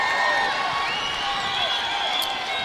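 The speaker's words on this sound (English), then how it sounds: "And can you hear this crowd?" Crowd cheering and shouting fills a gym during a high school boys' basketball tournament game, Page against Window Rock, a steady, dense roar that holds loud throughout.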